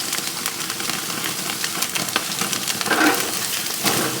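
Thick slab bacon sizzles and crackles over an open fire, a dense, steady hiss with scattered pops, close and fairly loud, no talk over it.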